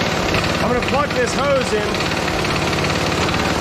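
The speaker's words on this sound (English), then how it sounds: "And we might rev up the compressor when we do that." The gas-powered engine of a John Deere air compressor runs with a loud, steady, throbbing drone close by while someone talks over it.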